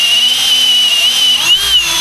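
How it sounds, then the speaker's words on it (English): A power drill whines at a high, steady pitch, its motor tone dipping briefly as it bores into 3/4-inch plywood. "there's no going back once I drill this"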